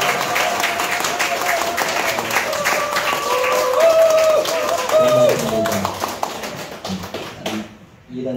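Applause and cheering from a church congregation welcoming a priest, dense steady clapping with voices in the crowd and music-like tones, fading out near the end.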